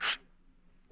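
One loud, close sneeze bursts out at the start, followed by quiet, and then a brief breath or voice onset at the end, from a vintage radio drama.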